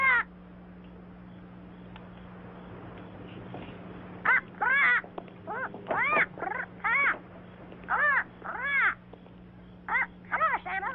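A bird gives repeated harsh, wavering calls in quick bursts, mostly in the second half, over a quiet indoor background with a faint steady hum.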